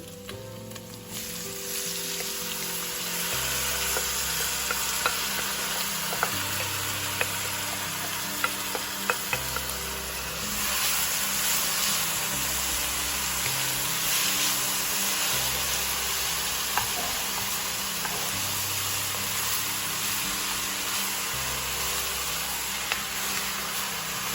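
A constant crackling sizzle of food-processed vegetables frying in a pan for Bolognese meat sauce carries on throughout, with occasional clinks and scrapes of stirring over a low background hum.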